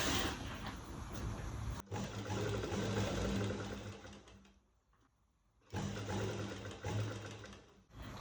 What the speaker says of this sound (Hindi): फोल्ड करते हुए सिलाई को लगाएंगे।